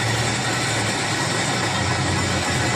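A steady, droning tractor engine runs continuously with a low rumble and constant vibration, close by, with no voices.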